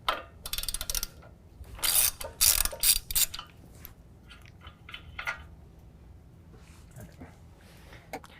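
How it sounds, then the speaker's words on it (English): A ratchet with a 21 mm socket loosens a tie rod nut on the passenger side of a 2019 GMC Sierra 1500, giving close, loud bursts of rapid pawl clicking in several strokes, then quieter sparse clicks. "I'm on the passenger side using a 21 millimeter, gonna take that nut loose."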